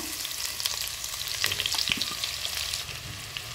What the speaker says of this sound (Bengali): তেলটা গরম হয়ে গেছে, আমি এখানে প্রথমে দিয়ে দিচ্ছি পেঁয়াজগুলা